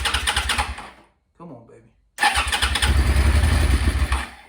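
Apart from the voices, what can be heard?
Suzuki SV650 motorcycle engine cranking, trying to start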